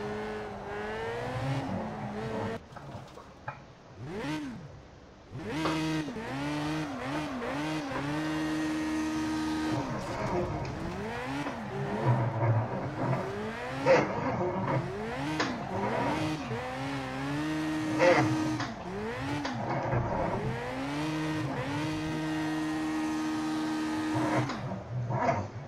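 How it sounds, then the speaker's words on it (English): An Audi's engine revs hard and repeatedly while doing donuts, its pitch sweeping up and down in rapid bursts, with tire noise throughout, close and loud for the whole stretch. "So as you can see, this car is very eager to get those donuts in."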